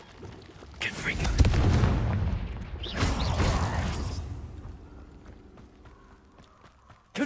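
The Confringo fire spell in Hogwarts Legacy goes off as two heavy blasts, one swelling and fading, then a second roaring burst a moment later, with faint crackles trailing into quiet.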